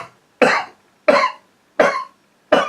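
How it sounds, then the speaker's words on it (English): A man coughs four times in an even rhythm, each cough sharp, loud and close, with short silent gaps between them. "Excuse me, I've just got a cough."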